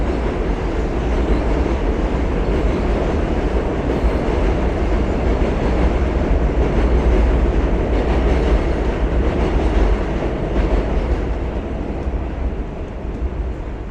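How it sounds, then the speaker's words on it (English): An F subway train rumbles past on an elevated rail over McDonald Avenue in Brooklyn, a loud, continuous roar with rattling clatter that stays close and steady for the whole stretch. "The F train runs pretty regularly up on this elevated rail."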